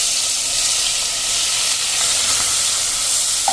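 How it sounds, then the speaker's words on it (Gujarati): Chopped onions go into a pan of roasted spices and carom seeds over a medium flame, giving a steady, fairly loud sizzle and hiss that carries on unbroken with no talking. "અને હવે આપણે જ્યાં ચોપ કરેલા કાંદા છે ને એ પણ નાખી દેશું."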